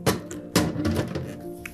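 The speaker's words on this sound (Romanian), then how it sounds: "punem înapoi capacul" The lid of a Levoit OasisMist 1000S humidifier is set back in place with two close plastic thunks and a few lighter taps as it settles.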